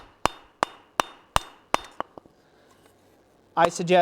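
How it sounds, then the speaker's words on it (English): Five evenly spaced sharp hand-hammer blows ring out on metal during forging, followed by a few lighter taps that fade, then a voice begins speaking near the end. "If you've got good aim, you can use a regular hand hammer for this process."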